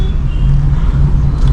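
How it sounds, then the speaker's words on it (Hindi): A car rolls through city traffic in third gear with light braking, its engine and road noise a steady low rumble heard from inside the cabin, loud and close. "यहाँ पे भी ट्रैफिक है तो क्या करना है, थर्ड गियर पे गाड़ी चल रही है"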